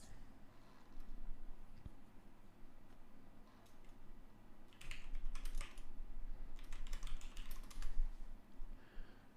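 Rapid clicking of computer keyboard keys in bursts of typing over a low steady background hum, close and clear, with short pauses between flurries.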